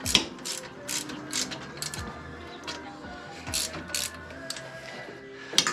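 A ratchet wrench loosens bolts on an Ironman gutter machine during a swap from 6 to 5 inch, giving repeated bursts of sharp, close clicking pawl action with brief pauses between strokes.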